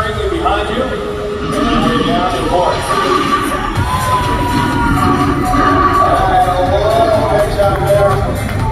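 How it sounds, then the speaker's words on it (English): A large crowd at the Calgary Stampede cheers and shouts loudly and continuously, with children's voices and general hubbub, while an announcer talks over the roar. "It's a big factor to have the cheering behind you."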